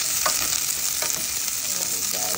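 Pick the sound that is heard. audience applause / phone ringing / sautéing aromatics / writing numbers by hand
sautéing aromatics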